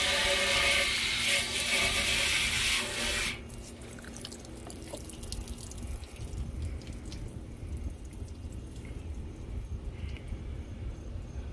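Water runs loudly from a hose or tap for a few seconds, rinsing sanded paint on a 1996 Honda CBR900RR part, then cuts off, leaving quiet dripping and faint scraping.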